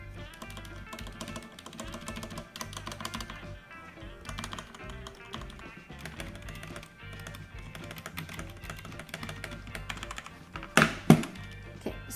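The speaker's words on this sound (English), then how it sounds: "So this is the K530 sound. Modded, obviously." Rapid, uneven clacking comes from typing on a modded Redragon K530 mechanical keyboard, with crisp keystrokes in bursts close to the mic and a couple of heavier, louder strikes near the end. Nobody speaks.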